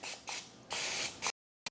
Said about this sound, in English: Spray it on my hands.